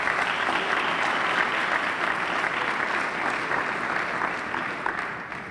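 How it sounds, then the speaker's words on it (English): An audience at a fire department awards ceremony claps steadily and fairly loudly for several seconds, a dense even patter that tapers slightly at the end. "Let's give him a round of applause"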